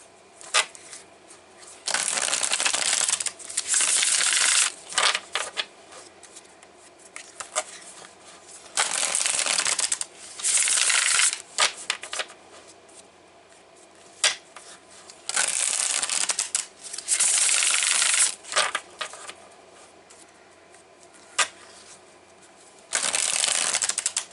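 A deck of tarot cards is shuffled by hand in repeated bursts of riffling and flapping, each a couple of seconds long, with short pauses between, close and clear with no talking.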